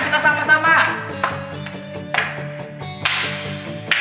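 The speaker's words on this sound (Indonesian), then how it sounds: "Mari kita tepuk tangan kita sama-sama." Children and adults at an online church service clap hands together in rhythm over music, with sharp periodic claps punctuating sustained keyboard tones.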